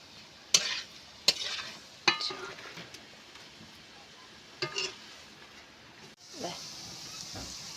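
Onions frying in a pan for a Bengali egg dish, with a steady sizzle broken by several sharp scraping stir strokes and a brief clatter of the utensil near the end.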